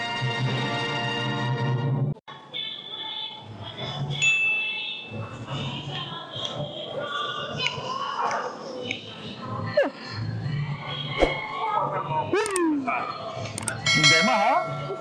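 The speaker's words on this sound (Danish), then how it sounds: "De havde engang en fin klokke herinde." A bell rings inside a restaurant, bright ding and clang tones ringing out over a busy room, mixed with voices and clattering background noise.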